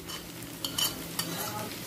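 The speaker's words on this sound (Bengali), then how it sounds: "এই সময় দিয়ে দিচ্ছি টমেটো কুচি।" Chopped tomatoes go into a pan of frying onion, ginger and garlic, giving a close sizzle with spoon scrapes and a few sharp clinks against the pan.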